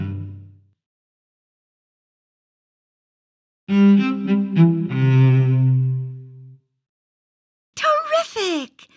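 Cello from the Lamb Chop Loves Music PC game, a short bowed melodic phrase of a few sustained notes, with a brief voice heard after it.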